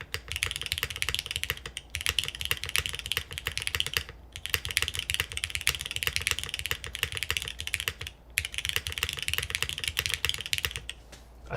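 Rapid, continuous typing on a NEO75 mechanical keyboard, dense clacking keystrokes in three long bursts separated by brief pauses, close and alone without talk.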